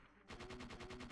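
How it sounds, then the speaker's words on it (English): An energy shot fired in Parasite Eve 2, a sharp onset followed by a rapid, evenly pulsed burst of about nine repeating bursts with a steady tone, loud and close, without speech. "I'm going to use energy shot here to save me a bit of ammo"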